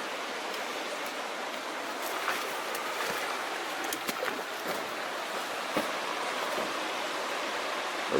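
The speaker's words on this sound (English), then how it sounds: "And then creeks down there." A creek near an old gold mine in the Sierras rushes steadily in a broad, even wash of water noise, with a few faint knocks now and then.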